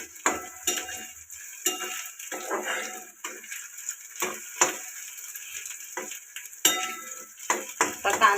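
Onion with ginger-garlic paste fries in oil for a Maharashtrian dried shrimp sukat dish. A thin, continuous sizzle runs underneath while a spatula scrapes and taps the pan in irregular bursts, close up.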